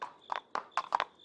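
A horse's hooves clop in an uneven walking rhythm as a rider approaches, with four or five faint, soft hoofbeats over about a second and a high steady tone in the background.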